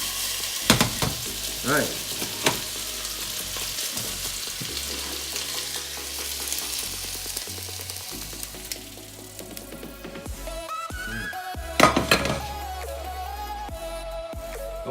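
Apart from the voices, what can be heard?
keto stir fry sizzling with sesame oil, being tossed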